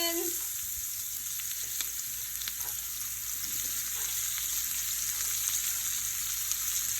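Onions sautéing in butter for a creamy pumpkin soup, a steady close sizzle and hiss of frying in the pan, continuous throughout with a few light stirring clicks and no talking.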